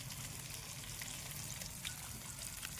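Fish fries in a pan with a soft, continuous sizzle and crackle. The sound is fairly faint, steady and even, with occasional small pops and no talking.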